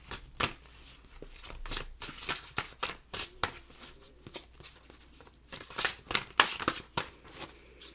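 Tarot cards being shuffled for a reading, with a series of crisp riffling bursts and soft flicks at irregular intervals, close and alone.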